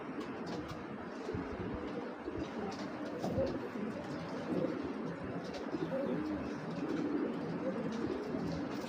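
Giribaz racing pigeons, a tournament-flown breeding pair, coo softly and steadily against a continuous murmur of loft noise, with no clear voices.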